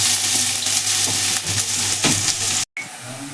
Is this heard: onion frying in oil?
yes